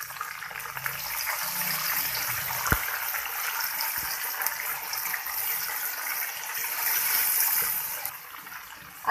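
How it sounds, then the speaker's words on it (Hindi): Ginger garlic paste with a little water frying in a pan for chicken karahi gives a steady, close, hissing sizzle that holds evenly throughout with an occasional faint clink. "इसके अंदर डालेंगे हम अदरक लहसुन का पेस्ट 1 टेबल स्पून, साथ ही इसके अंदर 2 टेबल स्पून डाल देंगे पानी। अब इसको फ्राई करेंगे।"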